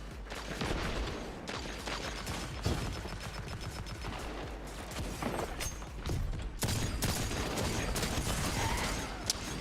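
A light machine gun fires in Destiny 2, dense rapid bursts of shots running almost continuously over mechanical clatter, fairly loud and close throughout.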